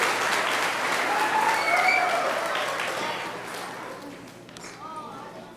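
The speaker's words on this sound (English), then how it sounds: "a big round of applause" A room full of people at an elementary school graduation claps loudly, the applause gradually fading, with some voices mixed in.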